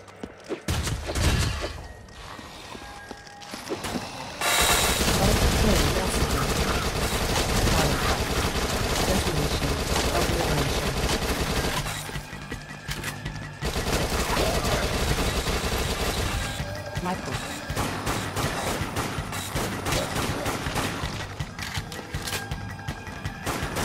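Dense, loud submachine gun fire in the zombie shooter Dead Nation, sustained bursts roaring through most of the stretch with a brief lull near the start and another around the middle, mixed with game effects and music.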